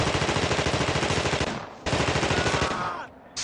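A grenade launcher fires in The Thing video game as loud, rapid repeated shots in two sustained bursts with a brief gap between them, then a short fading tail.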